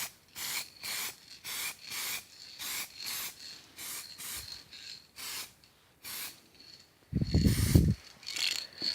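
Aerosol tint is sprayed in thin coats onto a car light, heard as a series of short, close hissing bursts in a steady rhythm, broken once by a brief low rumbling thud before the spraying resumes.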